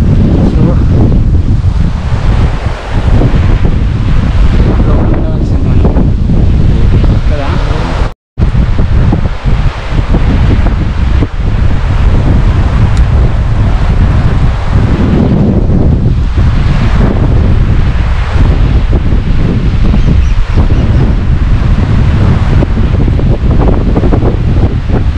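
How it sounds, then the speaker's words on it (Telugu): A waterfall in the Araku hills roars in a dense, constant wash mixed with wind buffeting the microphone, loud and close, with one brief dropout. "అదిగోండి ఇది మరొక వాటర్ ఫాల్ అనమాట చూడండి"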